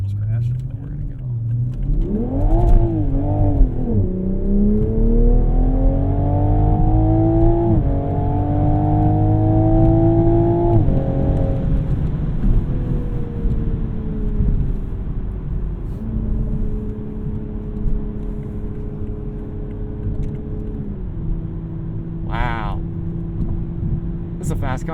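A Mk5 Toyota Supra accelerates hard through the gears, its loud, close engine note climbing in steady sweeps. It drops sharply at each upshift after spinning in first and grabbing third, then settles into a steadier drone.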